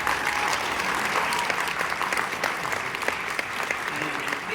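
An audience at a sci-fi convention Q&A in Malmö claps in a steady burst of applause that fills the room for several seconds. It thins slightly toward the end, and faint voices sit beneath it.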